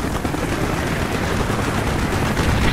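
Dense, sustained automatic gunfire in a Call of Duty: Black Ops mission, a loud continuous rattle of machine guns mixed with helicopter rotor noise and battle din, with no pauses.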